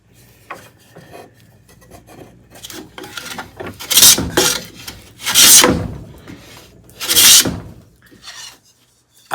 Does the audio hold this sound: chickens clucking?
no